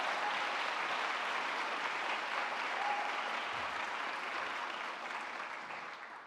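An audience at a university event gives a round of applause for a musical group, dense steady clapping heard from a distance that tapers slightly toward the end, with no talking over it.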